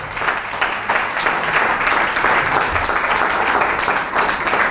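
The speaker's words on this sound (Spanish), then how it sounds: "Dele un fuerte aplauso al Señor." Congregation at a church gathering in Tarija, Bolivia, giving a sustained round of applause, steady massed clapping with faint crowd murmur underneath throughout.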